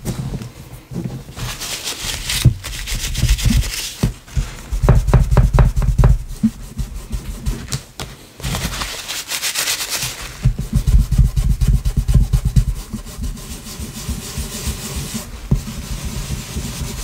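A brush scrubs and rubs paint across paper in a mixed-media scrapbooking card, giving bursts of close, dry scratchy strokes separated by brief pauses, with no talking.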